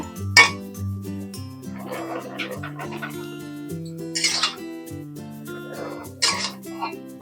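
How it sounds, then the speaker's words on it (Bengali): A metal spatula stirs and chops bottle gourd leaves in a pan, giving sharp clinks and scraping taps in irregular bursts at close range over a quiet background, with no talking. "পাতাগুলো আমি ভালো করে নেড়ে দেবো একটু খন্তি দিয়ে কেটে কেটে দেবো"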